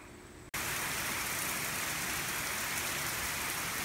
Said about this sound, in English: this little burst of rain is definitely making up for the lack of rain